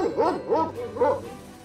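A dog in the horror game PuppetShow: Bloody Rosie gives three rhythmic barks in quick succession, fairly close and moderately loud, with no talk over them.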